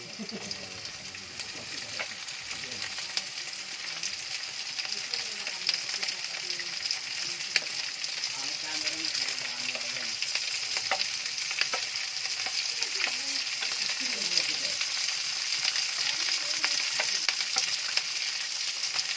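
Meat frying in a pan for kimchi fried rice, a steady bright sizzle that holds throughout with occasional stirring clicks, while a person talks over it.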